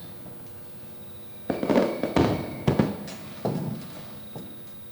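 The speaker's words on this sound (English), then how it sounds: "An early summer firework burst." A few sharp firework bursts crack and pop in an irregular cluster, moderately near, standing out against a quiet background.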